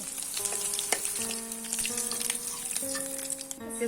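Prawns frying with tomato in a pan, a close, continuous sizzle with scattered clinks and scrapes from stirring, and no one talking.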